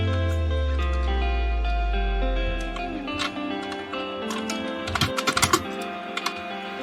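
Rapid clicking keystrokes on a computer keyboard while entering an Excel formula, a hum and tonal background underneath, with a quick burst of louder taps near the end.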